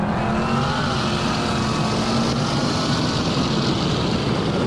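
Modded Mopar muscle car, a 720-horsepower build, accelerating hard on a public street with its tires spinning: a loud, steady engine roar held close for several seconds with a dense rumbling low end.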